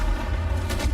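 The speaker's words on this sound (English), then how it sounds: "Returning gunfire in the streets of Cairo." Gunfire in the streets of Cairo in the video game Battlefield 6, a loud, dense, continuous roar of shots and booms under heavy low rumble.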